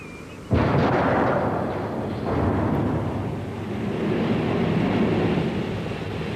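A sudden loud blast of an oil drum of acetone exploding at an explosions test centre erupts after a moment of quiet, followed by a long rumbling roar that lingers and swells without fading away.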